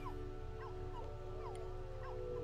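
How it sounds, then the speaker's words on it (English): Dog whimpering in a life simulation video game, a series of soft rising and falling whines repeated over a steady background hum with game music. "And the dog hates the TV again."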